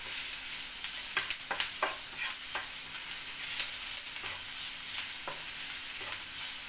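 Onions sauté in a pan for onion chutney, a continuous close sizzle with intermittent sharper stirring scrapes of the spatula, no voices.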